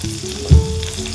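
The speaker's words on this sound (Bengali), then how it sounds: "বাটারের সঙ্গে আমি একটু তেল মিশিয়ে দেবো।" Butter mixed with a little oil sizzles steadily in a pan for a short moment, a close, even frying hiss with one brief louder burst midway and no voices.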